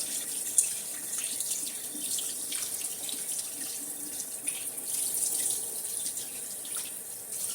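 Sea fish gets rinsed under a running kitchen tap, a steady close splash of water over the sink with small shifts and drips as the fish is turned, no voices present.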